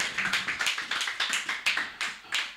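A church congregation claps together in a steady rhythm of sharp, fairly close hand claps, evenly spaced at about two per second, with no voices on top.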